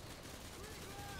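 Rapid gunfire in Call of Duty: Modern Warfare 2, a steady dense rattle of automatic shots filling the whole moment at moderate loudness without pause.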